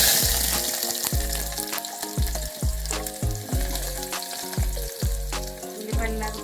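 Onions, garlic and green chilies fry in hot oil with a loud, steady, close sizzle, broken by repeated stirring and scraping strokes in the pan.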